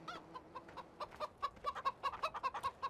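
Chickens cluck in quick, irregular bursts, close and fairly quiet, on a farm in the video game Landwirtschafts-Simulator 2013.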